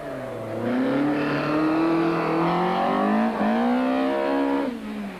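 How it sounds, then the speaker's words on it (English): A Volkswagen Golf built to S16 rally specification driven hard on a 1997 Agip Rally stage: a loud, high-revving engine rising through the gears, a brief lift between shifts, then fading as it passes. "they hustled the Golf round quickly enough to equal Keen's time"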